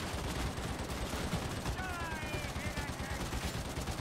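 Dense, continuous gunfire in the video game Warhammer 40K Darktide, loud and unbroken throughout, with a voice faintly present beneath the shooting.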